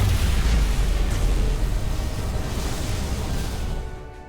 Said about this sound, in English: Dilithium explosion!